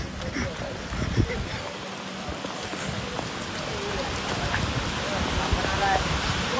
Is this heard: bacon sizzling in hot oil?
no